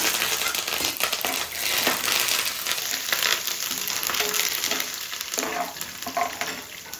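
Curry leaves drop into hot oil in a pan for mango pulihora and set off a loud, crackling sizzle that spits and pops continuously, close up, with no talking.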